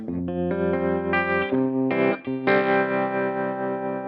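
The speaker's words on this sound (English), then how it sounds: "I have to have a tremolo just because I like tremolo." Distorted electric guitar plays a few sustained notes and chords with a pulsing tremolo effect, clean and close, no voices.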